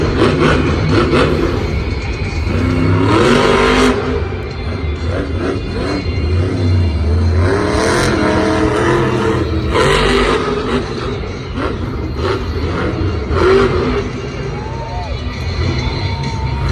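A monster truck engine roars and revs in a Monster Jam stadium show in Santa Clara. The steady loud engine noise runs under a cheering, murmuring crowd while a commentator talks throughout.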